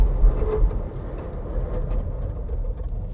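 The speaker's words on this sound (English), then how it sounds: "let's do a stop from 100 just to see what the brake and tyre package is like" A Ford Everest Tremor brakes hard from 100 km/h, heard from inside as a loud, steady road and tyre rumble that eases slightly as the SUV slows, with no talking.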